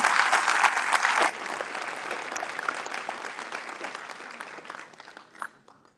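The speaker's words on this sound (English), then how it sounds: "So a big round of applause for all of the nominees here this evening" An audience at a Hispanic chamber of commerce awards ceremony applauds the nominees, a full burst of clapping that thins out and fades over several seconds.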